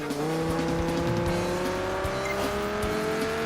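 A racing car in Project Gotham Racing 4 drives hard with a good-cornering setup, engine pitch climbing steadily through a gear with tire noise underneath, loud, close and continuous.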